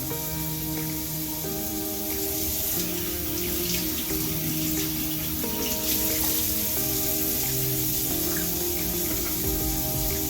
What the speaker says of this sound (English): I'm going to rinse them off in cold water.